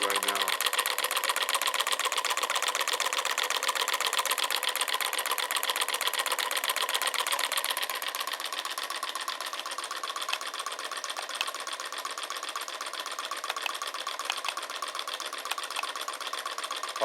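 A small piston-powered magnetic pulse motor runs at a steady high speed, giving a continuous fast mechanical chatter and whir that stays even and close throughout.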